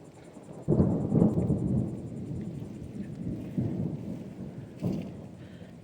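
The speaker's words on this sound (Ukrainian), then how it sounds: "чуєте, дощ падає" Steady rain hisses on a car and its small roof awning, broken by low rumbles of thunder that swell and fade several times, no voices.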